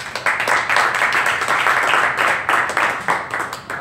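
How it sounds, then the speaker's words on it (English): Dense, steady applause from an audience fills the room, many hands clapping at once with a few louder bursts standing out, sustained without talk. "Clap, clap, clap."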